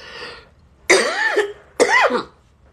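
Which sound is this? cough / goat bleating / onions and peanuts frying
cough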